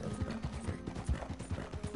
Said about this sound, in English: It's called the White Arabian. It's like a rare white snow horse you can get.